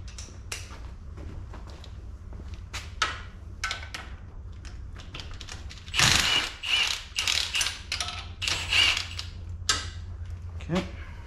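A ratchet turns a shallow socket on a motor mount bolt of a Gen 3 Dodge Viper, giving runs of quick metallic clicks, quiet and close at first, then louder bursts in the latter half, with some talk between.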